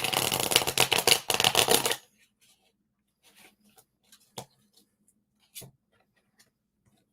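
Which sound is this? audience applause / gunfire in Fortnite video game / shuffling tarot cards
shuffling tarot cards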